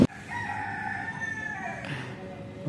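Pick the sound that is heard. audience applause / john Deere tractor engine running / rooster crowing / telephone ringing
rooster crowing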